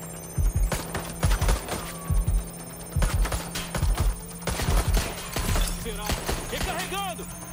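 Watch Dogs Legion firefight: repeated bursts of automatic gunfire in short volleys over a steady electrical hum, with game voices talking between and over the shots.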